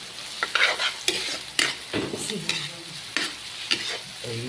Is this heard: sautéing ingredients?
yes